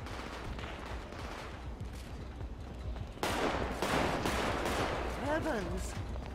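Video game gunfire in GTA comes as a rapid run of sharp cracks over a busy background, growing louder and denser midway through before easing slightly.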